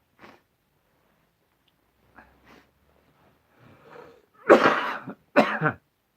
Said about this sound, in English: somebody blowing the nose and coughing